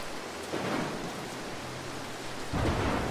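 Rolling thunder with steady rain in the stealth video game Mark of the Ninja, a broad continuous roar that swells into a louder crack near the end, heard alone without voices.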